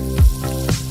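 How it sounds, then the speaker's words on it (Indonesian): Chicken sizzles in hot cooking oil in a heated wok at a penyetan food stall, a loud, continuous frying hiss with a couple of low bumps from stirring or moving pieces. "Lalu dimasukkan ke dalam wajan yang sudah dipanaskan dengan minyak goreng"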